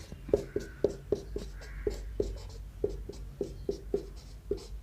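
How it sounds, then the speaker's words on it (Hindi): A marker or chalk taps and strokes across a board while a matrix is written, a quick irregular series of short distinct contacts with faint room hiss and no talk. "एक बार अच्छे से लिखता हूँ"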